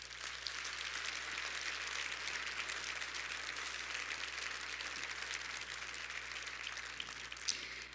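An audience at a State of the City event applauds healthcare providers, a steady wash of clapping from a crowd that holds at an even level throughout, fairly faint and distant.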